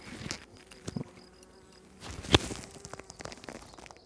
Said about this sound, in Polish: pszczoła mi tu wleciała pod kaptur jakimś cudem